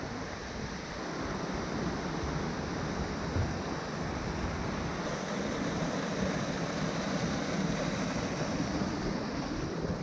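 Waterfalls of Nanataki Yatsubo near Myojindaira in winter, a steady, loud broadband rush of falling water that fills the whole stretch without pause, close by and alone.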